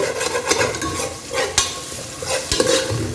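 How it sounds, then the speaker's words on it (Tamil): Cinnamon, clove and cardamom sauté in oil for Ambur mutton biryani, with a steady sizzle under repeated close stirring and scraping in the pan, and no talking. "இந்த பட்டை கிராம்பு ஏலக்காய் இந்த ரெண்டு மிக்ஸ் பண்ணி வச்சு அது கொஞ்சம் எண்ணெயில் கொஞ்சம் நல்லா வதங்கட்டும்"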